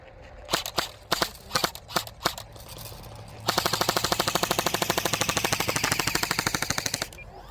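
Airsoft guns shooting at a 3D printed RC Sportster boat, a few loud single shots spaced out, then a long rapid automatic burst of evenly spaced cracks lasting several seconds, close and loud.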